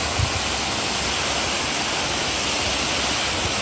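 A waterfall at Grinnell Glacier in Glacier National Park gives a steady, dense roar of falling water, broad and unbroken, heard alone without talk.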